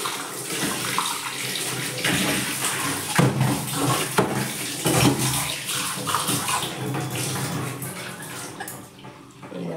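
Steady rush of running water rinsing a freshly scrubbed item under a tap, continuous and close with small splashes and shifts in flow, no voices.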